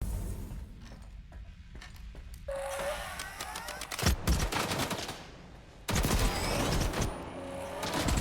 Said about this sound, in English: one of my favorite sounds in the game was the Gauss rifle.